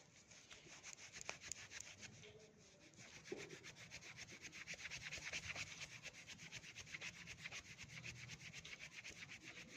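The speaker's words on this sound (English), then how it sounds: "Now we are going to rub the scale with the silk cloth." A silk cloth is rubbed steadily against a scale in a classroom electrostatics demonstration, giving a quiet, continuous scratchy swishing with rhythmic back-and-forth strokes and no talk.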